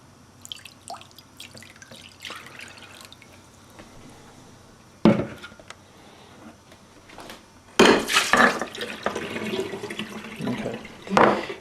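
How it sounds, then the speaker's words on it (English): Water runs and splashes in a sink while a bowl is sanitized for home fruit winemaking, with quiet drips and handling clatter at first, then louder bursts of flowing water and clanks. "I'm going to sanitize a bowl here"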